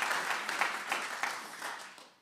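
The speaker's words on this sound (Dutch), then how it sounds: "groot applaus daarvoor" Audience applause in a lecture hall, steady dense clapping from a crowd that fades out toward the end.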